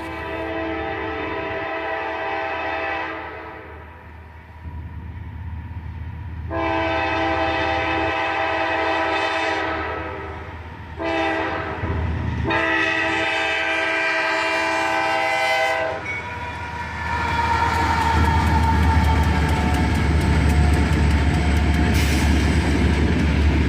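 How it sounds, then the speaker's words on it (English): Coal train led by an AC44CW locomotive followed by an SD70MAC, rumbling past with repeated loud horn blasts, then a steady rushing roar of wagons growing louder toward the end, no voices. "An AC44CW leads this coal drag, followed by an Sd70Mac."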